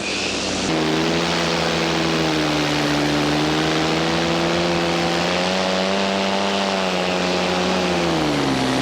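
A paramotor converted into a manned cinema drone makes a low pass down a runway. Its loud, close propeller engine holds a steady droning note with a slight dip in pitch, starting abruptly after a brief moment.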